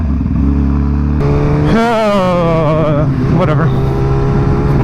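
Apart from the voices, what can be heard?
motorcycle launching in a drag race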